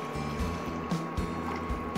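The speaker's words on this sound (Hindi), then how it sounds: "एक ग्लास पानी डालेंगे" A glass of water is poured into frying spices in a pan for a cauliflower dish, giving a bubbling, splashing pour with repeated gurgling surges up close.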